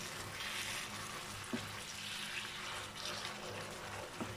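Chinese cabbage with noodles and shrimp is stirred in a hot pan. A steady close sizzle of frying runs throughout, with occasional soft scrapes of the utensil.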